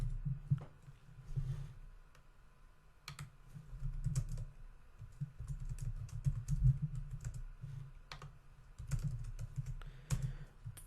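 Computer keyboard keys clack in an irregular run of taps while entering a restaurant address for a WordPress site, fairly close and steady with brief pauses, with a low rumble underneath and no talking.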